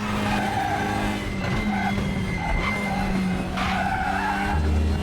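Race car tires skid and squeal in the RaceRoom WTCR racing game, a continuous screech over steady engine drone with shifting tones throughout.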